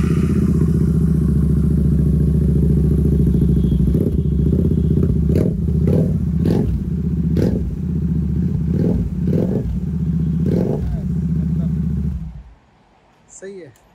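A Royal Enfield Interceptor 650 fitted with a Barrel Atom exhaust idles with a loud, deep rumble, then blips through a series of sharp revs and crackling pops before cutting off near the end.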